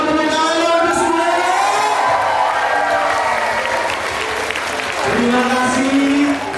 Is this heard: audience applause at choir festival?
yes